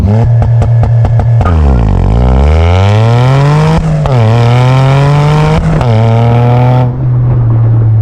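A 350-horsepower Toyota GR Corolla engine revs in short bursts at a standstill, then launches hard and loud, climbing through the gears with brief shifts before easing off.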